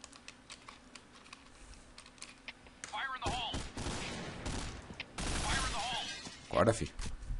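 Gunfire in the video game Point Blank comes as quick clattering bursts in the second half, fairly close, with people talking over the shots.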